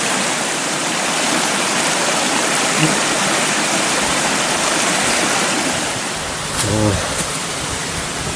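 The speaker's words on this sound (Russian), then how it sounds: "Вот, там водопадик" Small mountain waterfall in the Polar Urals, heard as loud, steady rushing white water that fills the whole clip, with a brief faint voice near the end.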